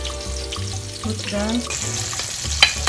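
Sweet onion for mushroom gravy sizzles and fries in a pan while being stirred, with a steady hiss, a few scraping strokes and a sharp clink near the end; a voice speaks briefly.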